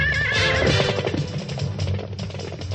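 A cartoon horse whinnies loudly over a sweeping orchestral theme in a French-dubbed Bravestarr animated series, the neigh rising and trailing off near the start.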